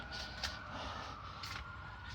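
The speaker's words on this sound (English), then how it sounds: "the fire department decides to show." Fire engine sirens wail faintly in the distance, a thin rising and falling tone drifting over low outdoor background noise.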